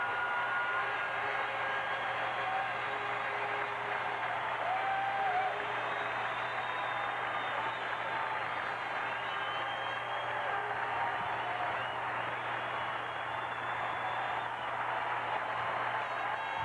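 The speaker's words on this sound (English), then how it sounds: "Let's listen to the crowd." A hockey arena crowd at the final buzzer of a 1978 NHL Stanley Cup quarter-final between Montreal and Detroit, heard as a steady, dense roar and murmur spread across the whole stretch, with no clear talk over it.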